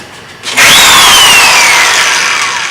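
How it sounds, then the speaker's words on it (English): A loud power drill spins up sharply and runs continuously, its high whine slowly dropping in pitch as it bites in. "I need to drill holes in all these."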